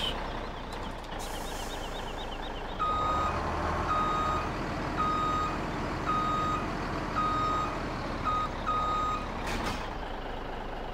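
A truck in Farming Simulator 17 backs up with steady, repeating reversing beeps over a continuous engine rumble, with no one talking.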